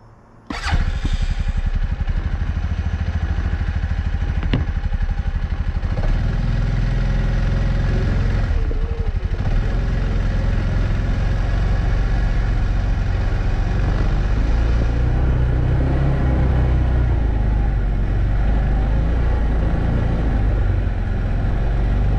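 An ATV engine starts and then runs steadily throughout the ride to town near North Pole, Alaska, a loud, close, continuous motor drone with shifting pitch and no talking.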